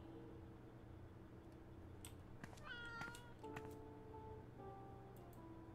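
Cat meowing in Life is Strange: True Colors, a few drawn-out mews over a steady low background hum, fairly close and clear with no talking.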